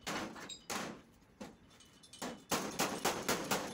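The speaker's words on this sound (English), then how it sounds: "So I've used about three different body hammers on this" A body hammer strikes over a soft rubber backing to crimp the door skin edge on a 1962 Impala restoration, giving sharp, close metallic taps in irregular bursts, with a denser run of rapid blows toward the end and no talking.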